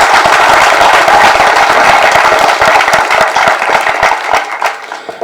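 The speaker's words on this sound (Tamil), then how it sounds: "இந்த அரங்க அதிர மாதிரி அப்பாவுக்கு பலத்த கரகோஷம் கொடுங்க" A stage-event audience claps loudly and continuously in a dense, roaring wave of applause that eases slightly toward the end.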